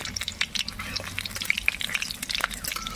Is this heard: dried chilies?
yes